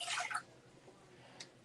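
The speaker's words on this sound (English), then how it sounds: "and throw in a cup of water" A cup of water is poured into pineapple upside-down cake mix, giving a short, bright splashing gush in the first moments, then near quiet with a faint drip later.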